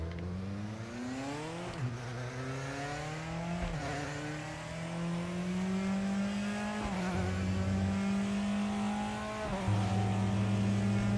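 Race car engines in a racing video game, whining revs that climb, drop at gear shifts and climb again in repeated surges, steady and moderately loud with no talk.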